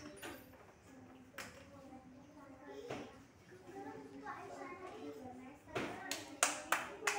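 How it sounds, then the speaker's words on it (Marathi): Children in a classroom clapping their hands, with a few scattered claps early on and a louder burst of quick claps near the end, while a teacher and kids talk over it. "टाळ्या."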